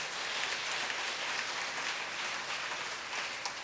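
Church congregation applauding during a Sunday service, a dense, continuous hiss of many hands clapping at a moderate distance with no talk.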